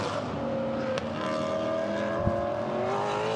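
A GT4 race car at Misano circuit sweeping through a left-hander on the final lap, a steady engine drone with shifting pitch and a brief sharp crack partway through, moderately loud.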